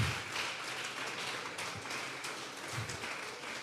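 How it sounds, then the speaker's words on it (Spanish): Congregation clapping hands as an offering of praise during a Spanish-language church service, a steady dense patter of applause sustained throughout at moderate loudness. "Vamos a regalarle ofrenda de palmas al Dios de la gloria"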